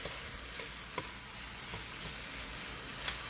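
Cooked rice frying and being stirred in a pan for chicken and vegetable stir-fried rice, a steady soft sizzle with faint scraping stirs, no talk.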